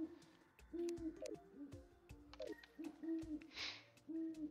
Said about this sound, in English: Oh, those owls up there.